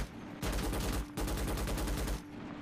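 Automatic gunfire in the Starship Troopers: Extermination game, two long dense bursts of rapid shots, loud and close, separated by a brief pause.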